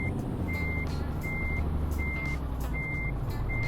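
A truck's reversing alarm sounds in Euro Truck Simulator 2, repeating steady beeps roughly once a second over a loud, constant engine rumble.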